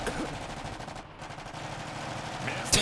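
Rapid machine gun fire in Iron Harvest rattles on continuously in a dense, noisy burst, with a sharper, louder crack near the end.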